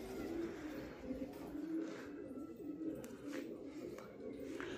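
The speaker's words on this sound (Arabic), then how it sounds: "هاي بلشت الحمام تطلع غاد." Pigeons cooing outdoors at a pigeon loft, a soft continuous murmur of low coos with faint bird calls, steady and moderately near.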